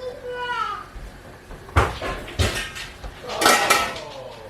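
Metal lid set onto a large pot of pasta sauce on a home stove during fall canning, giving a few close clanks and rattles among other kitchen clatter after a quiet stretch.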